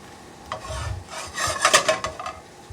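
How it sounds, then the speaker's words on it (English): Chopped garlic sizzling in olive oil in a pan, with a soft hiss and rubbing, stirring scrapes that swell in the middle of a short stretch and then ease off. "So you just add a little olive oil. We're gonna put our chopped garlic in there."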